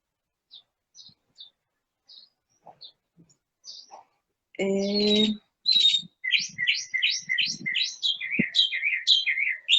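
Small birds chirp and tweet in quick, high bursts, sparse at first, then a dense run of rapid chirps; a short voiced squawk cuts in midway.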